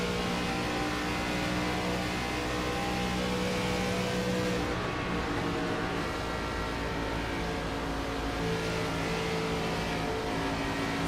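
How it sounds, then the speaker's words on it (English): Race car engine in the iRacing game during a NASCAR-style ARCA Series race, a continuous loud drone heard from onboard as the throttle is worked, with slight swells and dips in pitch and no talking. "Let's listen in, hear how he's working that throttle."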